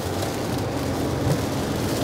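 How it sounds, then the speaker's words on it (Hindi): Steady rain hisses around a vehicle on an open road during a road trip, a constant even wash with no voices. "आप लोग के सामने है ये बारिश"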